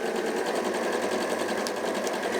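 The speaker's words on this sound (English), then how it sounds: "And then I'm literally going to sew in a straight line." A computerized sewing machine with speed control runs steadily, stitching a straight seam with a continuous, even mechanical whir that stays close and unbroken throughout.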